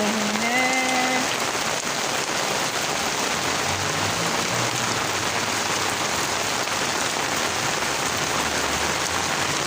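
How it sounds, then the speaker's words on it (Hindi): Heavy downpour beating on flowering garden plants and leaves, a loud, dense, continuous hiss of rain hitting foliage close by, with a brief faint tone near the start. "बहुत ज़ोर की बारिश है"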